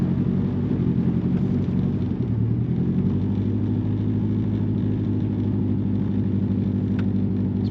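A Nissan Pulsar GTI-R engine idling after being revived from long storage, a steady low rumble that holds even and continuous throughout, close by, with no talk.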